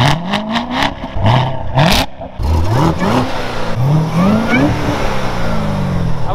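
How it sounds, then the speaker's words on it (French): A supercharged 660-horsepower Corvette V8 revs hard and repeatedly: loud rising engine pulls with supercharger whine, dipping between revs before climbing again, close and continuous throughout. "de devant on entend bien le compresseur"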